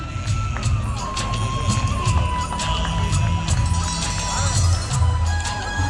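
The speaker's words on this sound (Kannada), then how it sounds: "ಜೋರಾದ ಚಪ್ಪಾಳೆ ಬರಲಿ" A crowd cheers and shouts at a Karnataka Rajyotsava celebration, a dense steady roar of voices with scattered claps and children's yells, fairly loud throughout.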